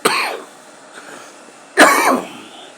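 Two sharp coughs, one at the start and another a moment later, close and fairly loud with a short pause between.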